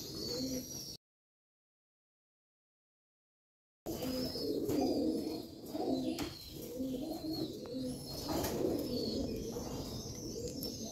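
Desi pigeons coo in soft, repeated low murmurs close by, with faint chirps mixed in; the sound cuts out completely for a few seconds, then the cooing resumes steadily.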